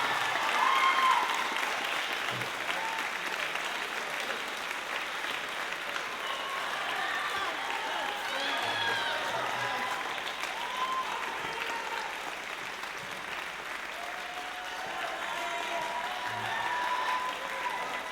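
An audience at a high school band spring concert claps for the percussionists, with sustained, even applause throughout that swells slightly near the end.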